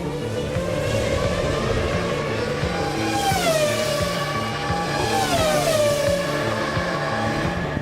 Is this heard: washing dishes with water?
no